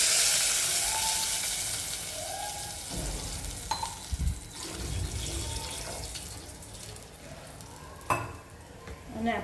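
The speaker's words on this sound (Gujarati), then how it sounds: "એમાં આપણે પાણી એડ કરી દઈશું।" Water is poured into a hot tempering of asafoetida, curry leaves and green chillies for nylon khaman, setting off a loud hiss and sizzle that slowly dies down, broken by stirring clinks and the splash of pouring.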